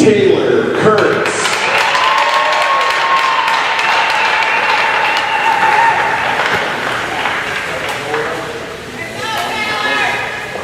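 A crowd applauding at a girls' youth tournament championship, with sustained clapping over the full stretch and an amplified voice speaking over it.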